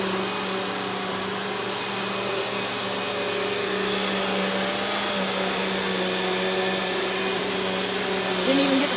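Upright vacuum cleaner grooming a heavily worn, repeatedly cleaned carpet: a constant motor whine with steady tonal hum and airflow hiss, close and unbroken for the full stretch.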